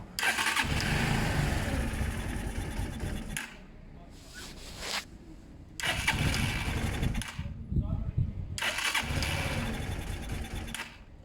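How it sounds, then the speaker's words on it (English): A Zontes motorcycle engine on half choke runs roughly at idle, its loud rough drone dropping off and surging back several times in uneven bursts, close by. "So the bike's running terribly, absolutely terribly."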